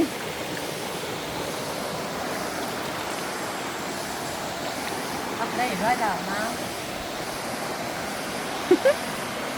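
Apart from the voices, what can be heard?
waterfall at Ton Phrao, Krabi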